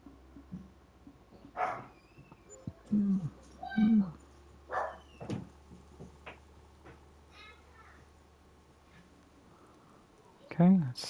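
Dog barking in the Farming Simulator 25 farm game, several short yaps scattered across the stretch amid faint background game ambience and occasional child-like voices.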